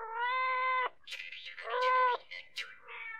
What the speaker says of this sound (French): mais le chat était là,